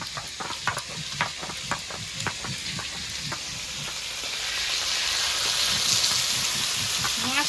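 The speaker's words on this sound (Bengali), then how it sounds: "মাছটা এত ফুটছে আমি ছড়ে ছড়ে উঠিয়ে নিচ্ছি।" Boal fish fry and bubble in hot oil in a pan with a close, steady sizzle, punctuated early by a quick series of light stirring taps before the hiss swells louder.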